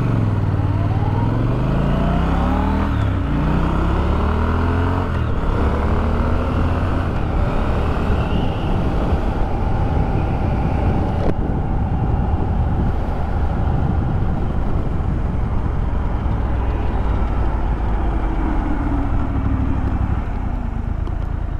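Triumph Scrambler 1200 X (2024) motorcycle being ridden, a steady loud engine drone with gear-change rises and falls and wind rush, continuous for about twenty seconds with no talk.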